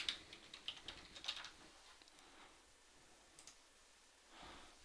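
Quick bursts of typing on a computer keyboard as a username is entered: soft, close, irregular key clicks in the first second and a half, then a few scattered taps amid quiet room tone.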